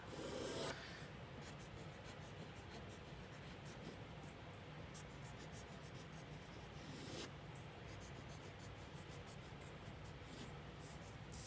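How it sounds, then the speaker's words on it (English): Pencil or marker drawing castle outlines on paper for a first-grade spooky castle art lesson, a steady close scratchy rubbing that runs almost continuously with a brief pause near the start. "that's where you would draw your castle lines on top."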